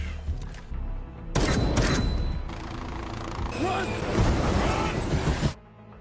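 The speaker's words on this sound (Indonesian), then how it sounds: "Hingga kemudian aksi baku tembak pun terjadi dengan begitu sengit." An intense gunfight in an action film scene, with bursts of rapid gunfire, sharp cracks and loud impacts over a dense, roaring soundtrack.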